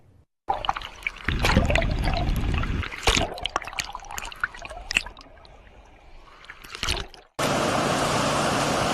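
Turbulent Kern River water churning and rushing close by, uneven surging bursts giving way to a steadier loud roar of flow near the end, with no talking.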